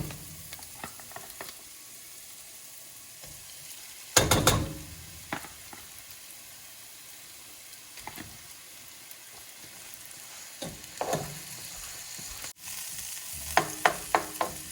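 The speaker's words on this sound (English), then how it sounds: "You just want to get these onions sauteed. Then we're going to add our ground turkey." Onions sautéing in a pot for homemade chili, a low steady sizzle broken by a few loud scraping stirs and clanks of a utensil against the pot, close by with no one talking.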